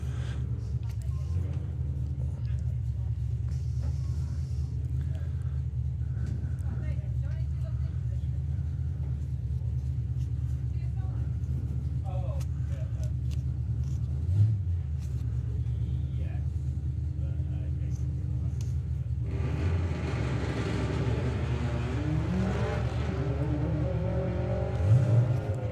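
A Subaru Forester and a Mazda MX-5 drag racing at the Greenlight Nationals 2025 event, with a continuous low engine rumble that swells noticeably late on, mostly under a commentator talking throughout.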